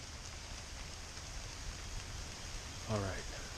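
Steady rain falls outdoors, an even hiss of drops holding throughout at moderate distance, with a brief tonal squeak near the end.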